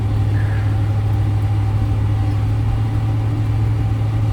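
A 1993 Chevrolet K1500 truck climbs a hill on cruise control, its engine a steady, close low drone with road hum and no change in pitch.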